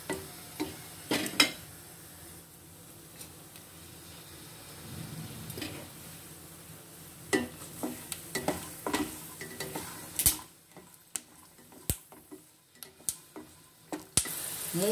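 Peanuts frying over a low flame in a wok, a soft steady sizzle broken by scattered spoon scrapes and clinks against the metal, with the stirring growing busier and sharper toward the end.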